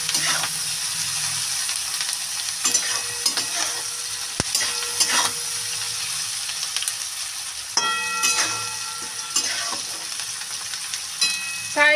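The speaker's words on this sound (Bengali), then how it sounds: "লবণ দিয়ে ভালো করে নাড়ি চাড়িয়ে নেবো" Food in a frying pan, seasoned with salt, hisses with a constant loud sizzle while a utensil stirs and scrapes it in occasional bursts.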